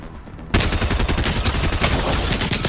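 Rapid submachine gun fire in the video game Fortnite, a dense continuous burst of shots that starts abruptly after a brief quiet moment and stays loud and close to the end.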